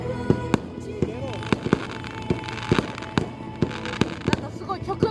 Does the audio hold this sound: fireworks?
yes